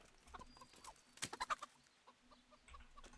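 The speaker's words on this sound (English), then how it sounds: "Replace the chickens, you'll need 4." Chickens clucking in a medieval village in the video game Kingdom Come Deliverance, a quick run of several clucks and squawks in the middle, with softer scattered clucks before and after, fairly faint.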